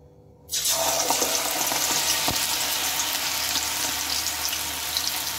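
A coriander leaf snack batter drops into well-heated oil, starting a loud, steady close sizzle and bubbling that runs unbroken after a brief quiet opening, with no talking.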